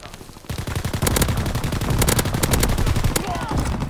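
Video game gunfire crackles in rapid automatic bursts, loud and close, rattling almost continuously after a brief quiet start.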